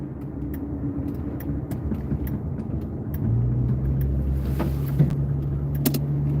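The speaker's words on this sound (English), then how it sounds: "now you're gonna probably hear that tire again" A car rolls through a traffic circle with a steady low road rumble and tire noise, growing slightly louder and heavier midway through, close and continuous with no talking.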